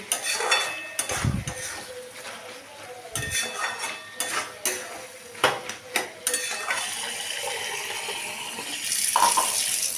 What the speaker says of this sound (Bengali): যতক্ষণ না তেল ছাড়ছে ভালো করে আমি এটাকে কষিয়ে নেব